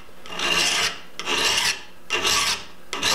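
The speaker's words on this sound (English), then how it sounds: "We want to try and get this thing filed over at about a 45-degree angle." A metal file rasps across the edge of a cabinet scraper held in a vise, making four long, bright strokes with short pauses between them, close and crisp.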